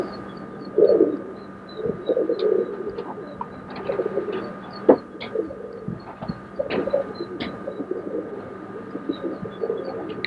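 Roller pigeons coo in a loft, soft repeated throaty burbles up close over faint background rustling and a few knocks.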